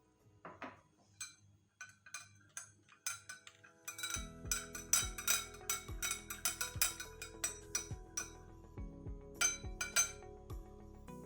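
A spoon clinks repeatedly against a glass while powder is stirred into a homemade weight-loss remedy drink, giving close, bright, rhythmic taps that speed up into steady stirring strikes with no talking.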